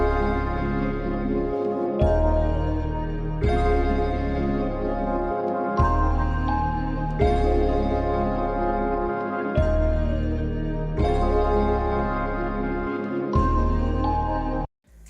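Dry synth melody for a chill hip-hop beat, without chorus, saturation or detuning, playing repeated phrases over a steady low bass pulse and cutting off abruptly at the end.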